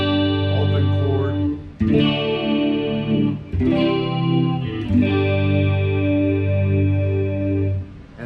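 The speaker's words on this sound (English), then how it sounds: "You can get a really nice, warm, open chord." A Kramer Assault Plus electric guitar strums sustained, warm open chords, three or four ringing strikes that each let notes hang and slowly decay.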